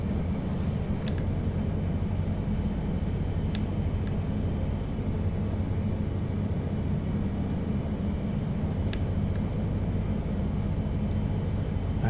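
Aerobask Epic E-1000 turboprop taxiing near the tower in X-Plane 11 with the prop in reverse, a steady droning engine rumble with a few faint clicks.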